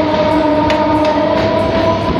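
A local train runs from Sealdah toward Ballygunge station. The rumble is loud and steady from inside, with a constant high whine and light rhythmic rail clicks.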